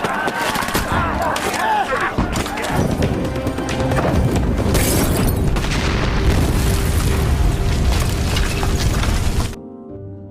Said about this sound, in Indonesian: Jintai menyiram bunker Korea Utara dengan minyak kemudian meledakkannya dengan bom.